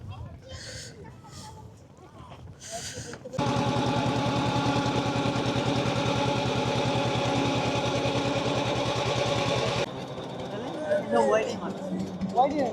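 A passenger boat's engine on the crossing to Mousuni Island starts abruptly and holds a loud, steady, throbbing drone for several seconds, then cuts back, with people talking before and after it.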